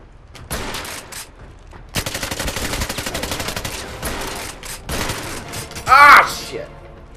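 Rapid gunfire from a Bond video game, with sniper rifle shots among sustained bursts of automatic fire and sharp cracks that crowd together in dense volleys, loud and close, along with game sound effects.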